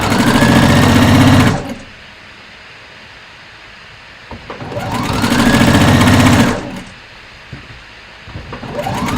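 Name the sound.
sewing machine stitching a curved fabric edge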